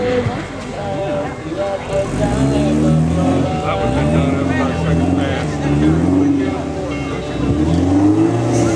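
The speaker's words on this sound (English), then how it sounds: "Justin gets that Suzuki online to make the next jump, and he does very nicely." Off-road racing Suzuki Samurai at a stock rock-crawling competition, its engine revving and surging in loud, wavering bursts, with commentary and talk running over it.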